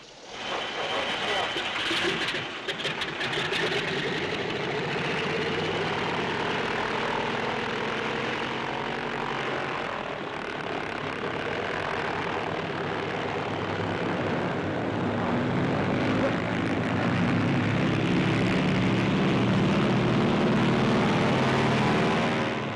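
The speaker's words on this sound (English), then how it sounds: "The nylon rope is prepared for hooking the glider behind the tow ship. Ready for the takeoff." A propeller-driven tow plane roars through a takeoff run while towing a CG-4A glider on a nylon rope, its engine drone steady and loud throughout.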